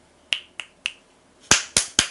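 Six sharp hand claps in a quiet room, three lighter ones spaced evenly, then a brief pause and three louder, fuller claps close by.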